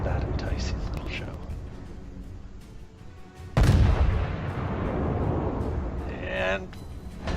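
Warship guns fire in World of Warships: a sudden loud boom hits midway and rumbles on under quiet talk, with smaller pops and crackles around it.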